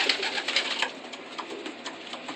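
Young racing pigeons in a loft give soft, repeated coos and fluttering calls close by, with no voices over them.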